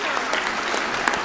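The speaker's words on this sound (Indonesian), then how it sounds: "Tepuk tangan untuk Sondos." Brief burst of steady audience clapping in a large hall at a university graduation ceremony, a dense even patter at moderate level with no voices.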